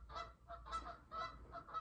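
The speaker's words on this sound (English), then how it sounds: "Damn geese." Geese honk outdoors in a string of nasal, repeated calls, several birds overlapping at moderate distance over a low background rumble, with no one speaking.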